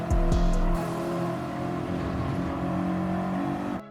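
Race car engine in Gran Turismo 7, droning steadily at high revs with a sharp throttle blip at the start, then holding an even, sustained tone through a corner, loud and close with no talking.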